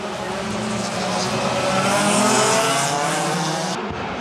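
Small Touring Light class race cars such as the Ford Fiesta and Citroen C2 race on a circuit in the Russian championship, with a loud engine roar and tire noise sweeping past close by before cutting off abruptly.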